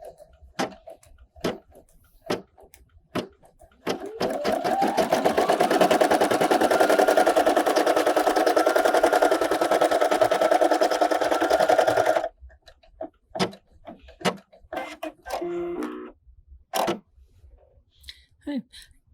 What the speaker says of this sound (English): It has now stitched out the outline of the applique.